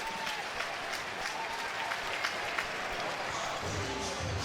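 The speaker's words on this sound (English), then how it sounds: "that will draw some applause even from the home crowd" Moderate applause from the home crowd at a college baseball game between Missouri and Mississippi State, a steady, slightly distant wash of clapping and crowd noise lasting the whole few seconds.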